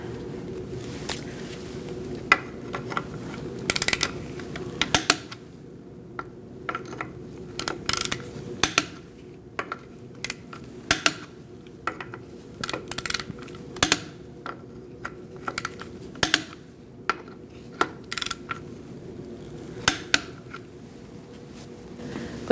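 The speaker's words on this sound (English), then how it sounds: "We're going to torque our wheel to 103 foot-pounds." A torque wrench tightening the wheel lug nuts on a 2004-2012 Chevrolet Colorado, making repeated sharp ratcheting clicks in quick bursts with brief pauses between nuts, close and crisp, without talking.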